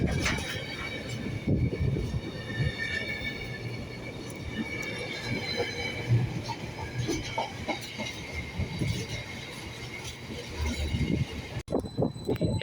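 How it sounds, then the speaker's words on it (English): A GBRF Class 66 diesel locomotive hauling a freight train past a station platform at Ely, with steady rolling rumble and rhythmic wheel clatter over rail joints, moderately close. "On a GBRF freight service from somewhere going to Felixstowe."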